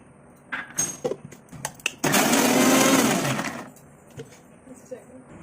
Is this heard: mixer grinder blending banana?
yes